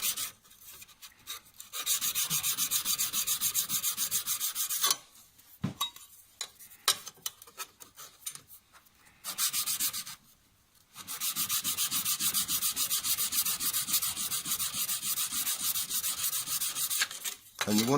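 A cabinet scraper is rubbed flat across a fine sharpening stone, making a continuous, close, gritty scraping sound in long sustained runs broken by two short pauses and faint clinks.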